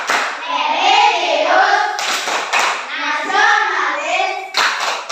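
A classroom group claps out the rhythmic tepuk PPK, the sets of claps broken by chanted words from a teacher and pupils, loud and close throughout.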